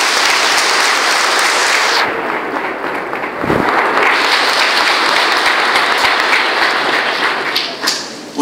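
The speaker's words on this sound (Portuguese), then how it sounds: "A igreja pode aplaudir." A church congregation applauds during a wedding ceremony as the ring is placed. The clapping is loud and dense and sustained from a large crowd, thins briefly midway, then swells again.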